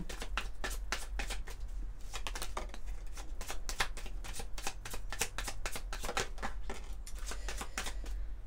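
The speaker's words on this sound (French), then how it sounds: "on va prendre quelques cartes de l'oracle Moho pour voir qu'est-ce qu'on peut avoir comme autre message" A deck of oracle cards being shuffled close by, a steady run of quick riffling card snaps that continues without pause and without speech.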